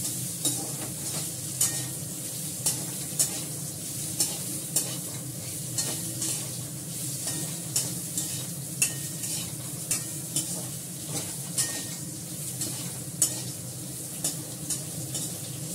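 Bitter gourd (karela) slices sizzle steadily in hot oil in a pan, with regular spatula scrapes and taps marking the stirring roughly every second, close and continuous with no voices.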